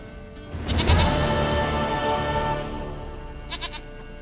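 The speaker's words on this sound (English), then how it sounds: "Goat of mine, dearest, sweetest goat." A goat in the video game Witcher 3 Wild Hunt on PS5 lets out one long, loud, wavering bleat, followed by a short quieter bleat near the end.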